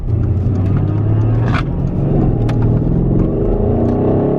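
A satin black Renntech-tuned car rated around 850 hp rumbles loud and close in a car park, its deep engine note steady and heavy throughout, with a couple of brief sharp clicks.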